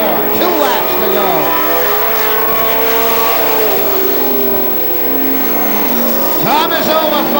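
Pro stock race cars roaring around a short track at night, engines droning and revving with pitch sweeps as cars pass close by, continuous and loud under an announcer's excited commentary.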